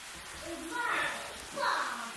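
Rain falls outdoors over a newly paved driveway on a Saturday, a steady, fairly loud hiss that swells twice, with a faint murmuring voice underneath.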